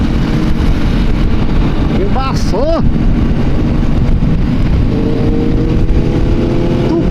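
More than 400 motorcycles ride together on a highway from Goiânia to Itauçu, making a loud, continuous engine roar with heavy wind buffeting. A voice briefly cuts through.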